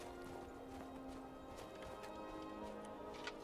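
Horse hooves clip-clopping in Skyrim, a faint steady patter of hoofbeats with a low drone and some soft clatter behind it.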